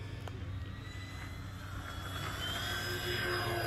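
FMS F7F Tigercat electric RC model plane taking off, its twin motors giving a steady whine that rises in pitch and grows a little louder as it climbs, moderately distant and alone with no voices.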